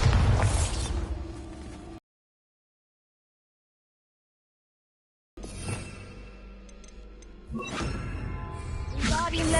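Confringo and Bombarda blasting spells in the Hogwarts Legacy video game burst out as loud explosive blasts with whooshing pops, cutting to silence for a few seconds before more crackling bursts and rumbling impacts return.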